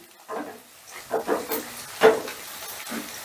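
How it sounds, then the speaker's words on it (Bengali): Chopped green chillies get stirred into onions frying in a pan, giving a few scraping stirs over a soft sizzle, close and fairly quiet. "এবারে কাঁচা লঙ্কাটাও পেঁয়াজের সঙ্গে একটু মিশিয়ে নিচ্ছি"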